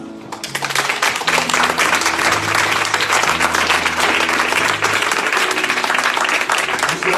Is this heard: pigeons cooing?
no